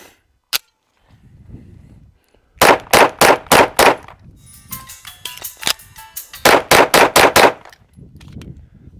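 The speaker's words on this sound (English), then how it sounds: "5 shots reload, 5 shots." Two strings of five sharp, loud shots from a Walther PDP 9mm pistol, fired in quick rhythm, with a single earlier shot and metallic clicks and handling of a magazine reload between the bursts.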